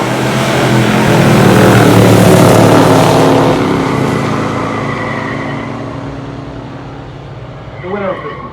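Two stock muscle cars, a 1970 Chevelle SS396 with the base 350-horsepower 396 and a 1969 Dodge Dart Swinger 340, roar off in a pure stock drag race, loud broad engine noise swelling then fading into the distance, with a voice talking over it.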